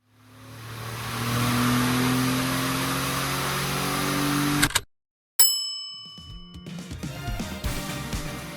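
A vintage car engine roars at sustained high revs on a dynamometer for several seconds, cuts out abruptly, then a metallic ring and clattering follow.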